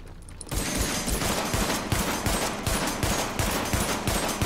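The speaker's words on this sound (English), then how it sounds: "Can you shoot fire extinguishers? Oh, they explode and they do damage." Dense, rapid gunfire with bursts and explosive thumps in The Division, a shooter video game, where shot fire extinguishers blow up; loud and continuous after a brief quieter start, with no voices.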